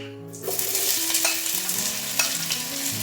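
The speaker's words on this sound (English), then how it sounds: "I'll take around 2 tablespoons of any refined oil and 2 teaspoons of clarified butter or desi ghee to fry the onions." Onions frying in refined oil and desi ghee for chicken biryani give off a steady close sizzle, with faint stirring scrapes and soft ticks throughout and music playing underneath.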